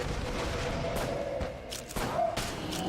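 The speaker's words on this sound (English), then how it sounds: "Makeshift cannon was good, but I missed with some of my shots." Makeshift cannon shots in the video game Enter the Gungeon land as a few heavy booms and thuds, scattered unevenly among game effects, with a voice talking over part of it.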